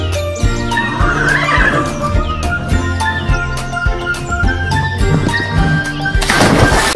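Toy horse figure from a farm and dinosaur animal set plays a horse neighing and whinnying sound, loud and close, repeating over a busy electronic backdrop with a brief clip-clop and rattling burst at the end.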